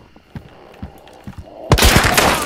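A gunshot and a fusillade of weapon fire in the game Hunt: Showdown: a few sharp, scattered thumps, then a loud, sustained burst of shooting that fills the final second.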